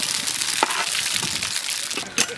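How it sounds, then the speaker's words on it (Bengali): Whole dried red chillies, bay leaf and whole cumin frying in hot oil in a heated karahi crackle and sizzle close up, with a few sharper pops and spits breaking through the steady hiss. "কড়াই গরম হয়ে গেছে তেল দিয়ে দিই পাঁচমিশালি সবজি রান্না করব তার জন্য ফোড়ন নিয়েছি গোটা শুকনো লঙ্কা তেজপাতা আর গোটা জিরে"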